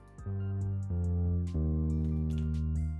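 A low, sustained pitched-up sub bass line with a plucked, slightly guitar-like edge steps through a few held notes, loud and alone with no talking.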